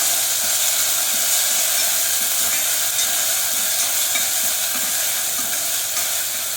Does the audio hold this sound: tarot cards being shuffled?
no